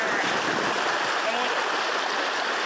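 A strong stream of water rushes down over rocks at an igarapé near Pau-D'arco, Maranhão, a dense, loud, steady roar close by that holds without break.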